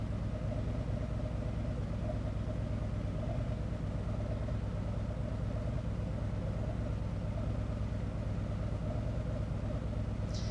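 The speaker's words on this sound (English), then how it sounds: "Okay, again, another test with the engine idling." A Harley-Davidson motorcycle engine idles in neutral during a diagnostic test, a steady low rumble that holds evenly throughout without any revving.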